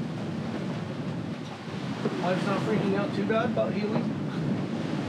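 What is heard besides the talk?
wind and waves while sailing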